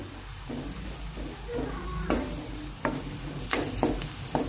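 Taro root masala curry being stirred in a pan, a steady frying sizzle underneath with several sharp scrapes and clinks of the spoon against the metal at irregular intervals.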